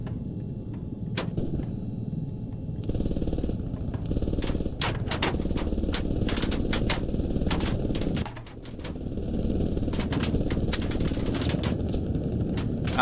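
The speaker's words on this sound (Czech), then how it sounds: "Střílí něco po nás. Ze spoda. Přímo pod náma někde." Rapid bursts of automatic gunfire from below crackle in dense, irregular volleys over the constant drone of a helicopter in the Squad military video game.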